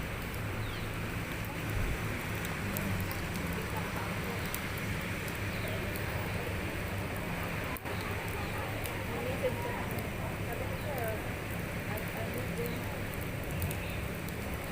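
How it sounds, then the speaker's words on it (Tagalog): Heavy rain pouring steadily, a continuous dense hiss and patter at constant loudness, with people talking faintly underneath. "maulan, malakas ang ulan"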